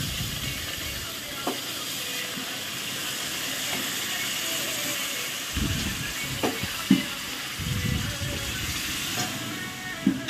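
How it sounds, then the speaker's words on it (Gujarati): Hot water hitting flour roasting in a pan for sheera, sweetened with jaggery, gives a steady close hiss that grows into louder bursts of bubbling sizzle and crackle partway through. "આ રીતે ભૈડું બરોબર શેકાવા દેવાનું પછી આપણે ગરમ પોણી કરેલું હોય ને અંદર નાખી"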